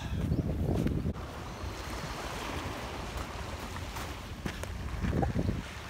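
Sea waves wash onto a deserted sandy beach beside the Kanmon Strait, with louder surges at the start and near the end over a steady wind-blown rush of surf.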